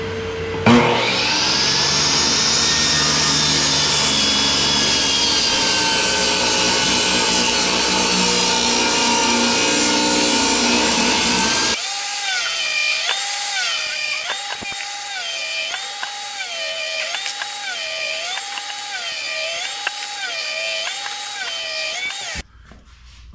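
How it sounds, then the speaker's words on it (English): A power saw rips a 2x4 board for a farmhouse table, running loud and steady for about twelve seconds, then gives way to a different sustained whirring tone that continues to the end. "we're gonna go ahead and cut the board"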